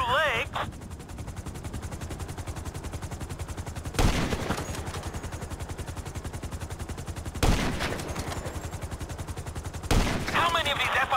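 Rapid automatic gunfire from FIB weapons in GTA 5 rattles in a steady, fast burst, with louder blasts punctuating it about every three seconds.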